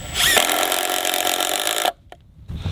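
A Makita 18V brushless LXT impact driver with a 5Ah battery runs at full power, giving a loud, close, continuous whirring buzz for nearly two seconds before cutting off into near silence.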